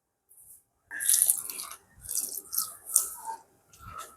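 Dough being mixed by hand with turmeric water, close and wet squishing and slapping in irregular bursts separated by short pauses, with no talking.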